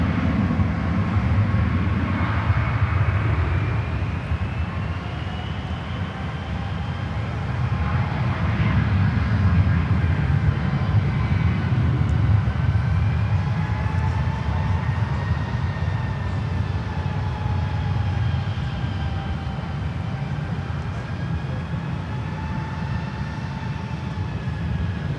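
An American airliner bound for Phoenix rolls down runway 1 left at San Francisco airport, a sustained engine roar with rising and falling whine tones that swells and fades over the run, without voices.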